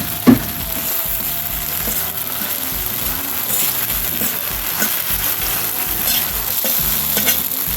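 Leftover chips stirred and reheated in a pan, a steady close sizzle with repeated scraping and clicking stirs throughout, no voices.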